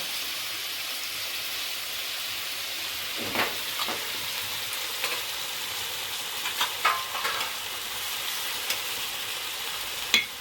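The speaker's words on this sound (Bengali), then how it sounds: "আবার একটু ভেজে দেব" Bombay duck (lote fish) curry with potato, brinjal and coriander leaves frying in a pan, a steady hiss like light rain broken by a few scattered scrapes of a stirring spoon, with no speech.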